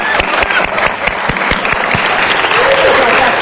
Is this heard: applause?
yes